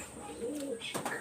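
Pet pigeons coo in a loft, a short low rolling call followed by a few brighter chirps and a light flutter, close and fairly quiet.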